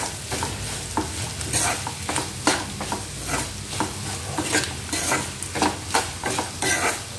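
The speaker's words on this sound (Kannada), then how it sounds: "ಇದು ತರಕಾರಿ ಸ್ವಲ್ಪ ಚಲೋ ತಂಗ ಎಣ್ಣೆ ಒಳಗೆ ಬೇಯಬೇಕು." Vegetables sizzle in hot oil while being stirred for a traditional rice upma. Steady, close frying crackle runs throughout, with regular scraping stir strokes and no talking.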